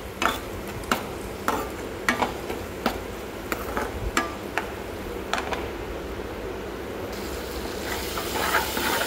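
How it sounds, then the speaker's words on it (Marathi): Soaked dal sautéing in a pan with green chilli and garlic, a soft continuous sizzle broken by sharp spatula scrapes and taps against the pan, close and alone. "त्यामध्ये आपण भिजलेली डाळ टाकून छान अशी परतून घ्यायची"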